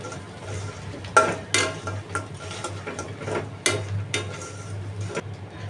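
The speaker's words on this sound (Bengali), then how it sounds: "চুলার আঁচ কমিয়ে আমি ধীরে ধীরে সবগুলো আবার ভালোভাবে ভেজে নিচ্ছি" Stinging catfish koftas fry over low heat in a spiced gravy, with a soft, steady sizzle broken by repeated close scrapes and clinks of a spatula against the pan.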